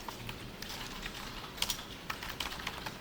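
Light keystrokes clatter on a computer keyboard in brief clustered taps with short pauses, close and fairly quiet over low room hum, with no voice.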